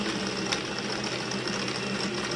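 Sewing machine stitching rickrack onto the edge of a hoodie, a steady, even whirring hum that runs unbroken at moderate volume from start to finish.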